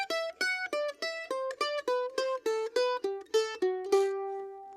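Mandolin plucks a thirds exercise descending through the second octave, about a dozen crisp, evenly spaced notes in a steady rhythm before a final note rings out and fades.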